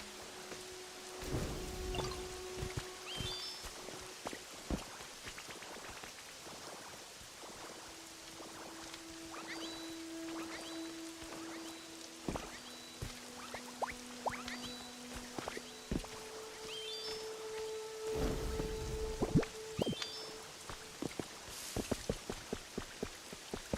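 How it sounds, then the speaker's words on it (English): Rain falls steadily in a cozy Pokémon-style video game, a soft continuous patter under a string of bright chimes and short melodic game tones. "It needed to stop raining tonight."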